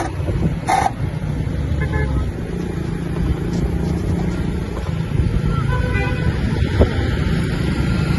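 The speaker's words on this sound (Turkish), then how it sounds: "Trafik de çok kalabalık ya." Busy road traffic on a rainy day, heard from a moving electric scooter, with a steady broadband roar of passing vehicles and a short car horn toot near the start, continuous and fairly loud throughout.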